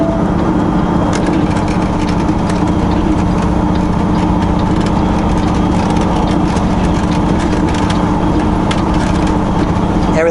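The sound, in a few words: vehicle driving with snow tire chains on rough compacted snow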